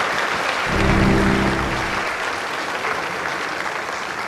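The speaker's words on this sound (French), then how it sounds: "Sur votre applaudissement, s'il vous plaît." Applause from an audience at the Ecrans Noirs film festival ceremony, a dense, steady wash of clapping that swells slightly early on and holds at an even level throughout.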